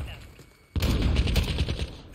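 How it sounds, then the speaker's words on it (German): A sniper rifle shot in the video game Call of Duty Modern Warfare multiplayer, a sudden loud blast after a quiet moment followed by a rattling burst of gunfire and echo. "Ah, schlechter Schuss."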